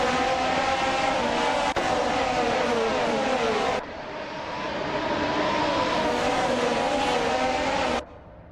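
Race cars, including a 2022 Ferrari on pole, launching at the start of a race at Brno in a racing game, engines roaring loudly together with rising and shifting pitch, then cutting off abruptly near the end.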